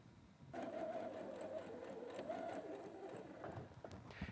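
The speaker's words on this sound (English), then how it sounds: "now that would take that to the machine and sew right on that line" Sewing machine stitching quilt binding along a pinned line, a steady close whirring run that starts after a short pause and continues with slight rhythmic variation.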